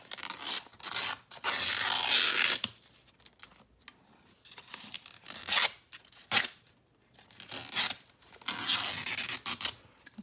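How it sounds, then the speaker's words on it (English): Scissors snip and rasp through old glued book pages in long bursts separated by pauses, close and fairly loud, with occasional rustling between cuts. "Maybe I can try to use the scissors."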